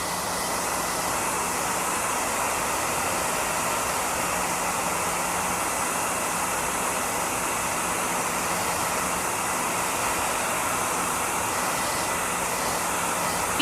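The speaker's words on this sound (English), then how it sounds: "Keep that blow dryer moving so you don't burn or scorch it." A blow dryer drying paint on a snowman painting gives a steady, continuous airy whoosh, even and fairly loud from start to finish, with no voices over it.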